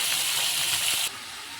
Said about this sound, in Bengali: আমুদি মাছ ভাজা হচ্ছে